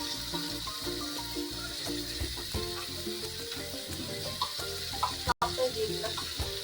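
Tomato and ginger-onion-garlic paste fry with onions for a Bengali-style mushroom dish, a moderate sizzle broken by irregular stirring knocks, with a brief dropout near the end.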